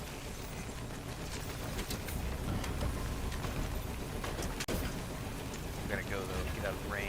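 Rain in the game Death Stranding, a constant hissing downpour with a soft low rumble underneath and a few sharper drip ticks, faint and steady across the whole stretch.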